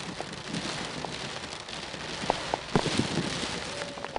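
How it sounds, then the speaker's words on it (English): Heavy rain pours steadily onto a river in the Orinoco Delta, a dense hiss of countless drops with scattered louder splashes close by, no voices. "The rain was magnificent, really refreshing and fun to paddle through."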